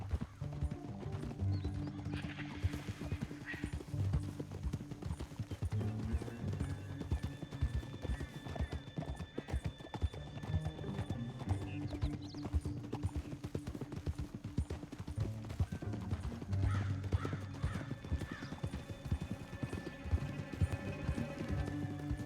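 Horse hooves galloping in Red Dead Redemption II, a rapid rhythmic clip-clop running continuously, with occasional whinnies over the pounding gait.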